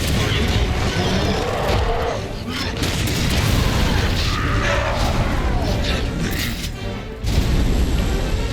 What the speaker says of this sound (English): grenade launcher seems to be doing the trick against him